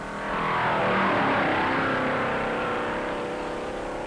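Stock cars racing at the 1958 Darlington Southern 500, a steady, loud engine roar that swells in the first half second and holds as cars run flat out on the high-banked track, with no one speaking.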